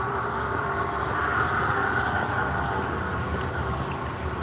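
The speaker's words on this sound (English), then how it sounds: "Sound like that engine about to blow up." A vehicle engine strains loudly, sounding close to blowing up, a continuous rough roar with a steady hum that holds at a constant level throughout, with no talking.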